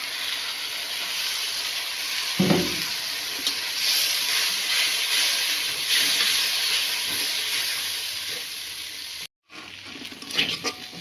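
Chew fish head paste fries in a pan with a dense, steady hiss of sizzling oil that stays close and constant, broken by a brief clatter near the start and a short dropout near the end.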